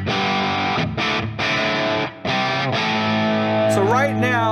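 A heavily distorted electric guitar from a tube amplifier driven hard into power-tube overdrive plays sustained chords with a few brief breaks, ending in bending, wavering notes.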